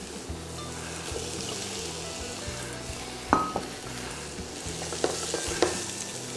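Beef is added over sweating shallots frying in a pan for boeuf mironton, a steady close sizzle broken by a few sharp clinks and scrapes of stirring.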